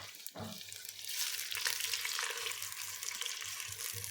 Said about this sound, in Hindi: चिकन को हमने 1 से 2 मिनट के लिए इसी तरह से जो अदरक लहसुन का पेस्ट है उसके साथ हमने फ्राई कर लेना है